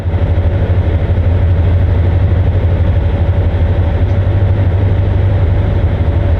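An MTU diesel train engine idles in Train Sim World 6, a loud, steady low rumble with an even throbbing pulse that holds throughout, with no voices.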